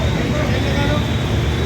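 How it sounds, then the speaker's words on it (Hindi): Heavy traffic stands jammed at Masab Tank in Hyderabad after an oil spill, a loud, dense wash of engine rumble and road noise mixed with crowd babble and voices. "हेवी ट्रैफिक जाम है मासाब टैंक पे"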